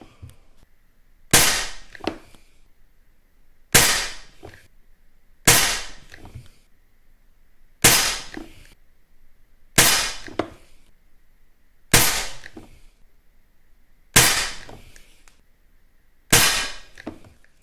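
Eight evenly spaced shots from a silenced air pistol firing at a paper target at 10 metres, each a sharp close crack with a quick decaying tail, separated by quiet gaps of about two seconds.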